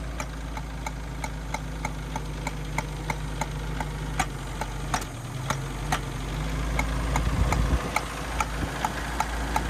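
A Mercury Capri Turbo engine with a cracked exhaust manifold idles steadily, a regular ticking, tapping pulse riding over the low rumble, close up and fairly loud, without voices.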